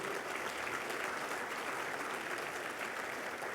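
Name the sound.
applause for the speakers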